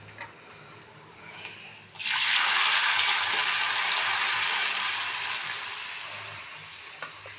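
Hot tempering meets lentils in a pan while making mango dal. A sudden loud sizzle bursts in, holds for a few seconds, then slowly fades as the frying settles.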